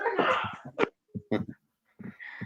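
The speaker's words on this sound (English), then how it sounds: "my dogs are barking" Dogs bark outdoors in a few short, separate bursts with quiet gaps between them, fairly close and moderately loud.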